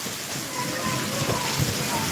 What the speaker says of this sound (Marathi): बरं झालं पाऊस आला